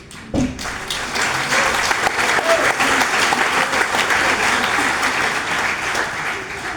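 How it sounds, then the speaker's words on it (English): An audience at the London Green Party Conference breaks into sustained, dense applause that holds steady throughout, with faint crowd noise mixed in. "Just to be clear, we're not applauding the police people."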